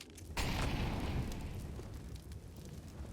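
A sudden whoosh as an incendiary grenade ignites in Counter-Strike, followed by a sustained roaring, crackling burn that slowly fades over a few seconds, with no voices.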